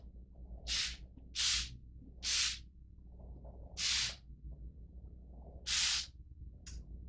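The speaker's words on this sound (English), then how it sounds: "You just go ahead and spray it on the surface." Five sharp hissing spray bursts of gel onto a mirror surface at uneven intervals, then a brief final puff, close to the mic over a low steady hum.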